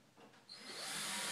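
A power drill whirs as it drives screws into a woodworking workbench, with a short rising burst of high, buzzy spin that grows louder toward the end.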